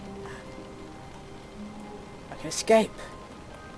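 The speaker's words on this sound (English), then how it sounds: "Sounds like it's raining." Rain falls in the video game The Stanley Parable as a steady, faint patter in the background, while a voice talks over it and a brief louder burst comes near the end.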